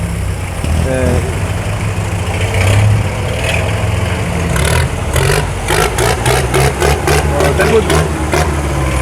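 Restored tractors rumble and idle through a harvest festival parade, their engines a steady mid-pitched drone with some revving, while crowd noise and rhythmic music or clapping build in the second half.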